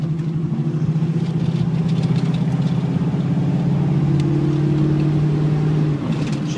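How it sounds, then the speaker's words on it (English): A 1972 Ford Mustang Mach 1 on a test drive, its engine droning loud and close as it pulls through the gears, with a steady low hum and a drop near the end as a shift comes. "First test drive. Going through all our gears."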